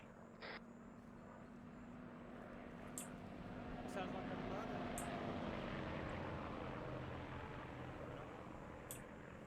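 A steady droning propeller aircraft engine in the World War II game Task Force Athena at Guadalcanal, humming near an airfield at moderate distance with faint clicks, while people talk over it.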